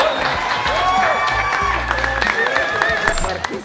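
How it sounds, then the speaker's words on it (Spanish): An audience claps and cheers briefly at a casual gathering, the applause mixed with overlapping voices and some tonal sound in the background. "Un aplauso, por favor."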